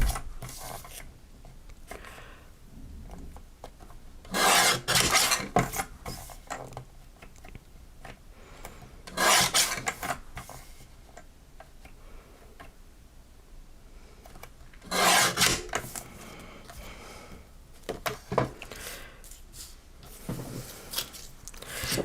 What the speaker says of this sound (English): I'm gonna cut all of this border off